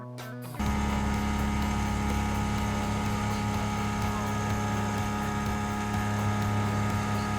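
Motor glider engine catching and then running, a near-silent opening that jumps into a loud, steady droning roar heard close up from the cockpit.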